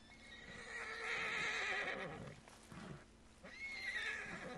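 A horse in Red Dead Redemption 2 whinnies loudly in two long neighing bursts, with hoof clip-clops and rustling underneath.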